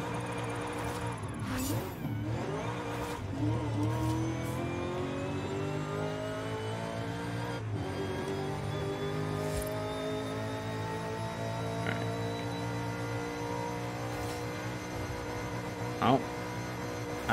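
A car engine in the racing video game Forza Horizon 5 holds a steady high drone with layered harmonics, held at full throttle and rising slightly in pitch, with brief bursts of other noise over it.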